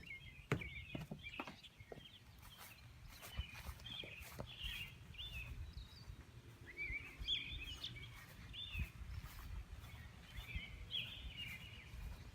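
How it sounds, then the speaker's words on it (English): Birds chirp and trill repeatedly outdoors on a calm day in Newton, Indiana, after a severe thunderstorm passed nearby, with soft footsteps and faint background rumble beneath the fairly quiet calls. "Birds are singing."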